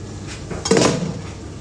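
A pot lid in a home kitchen is picked up and set down, making one loud metallic clank with a short ringing clatter, with no voices.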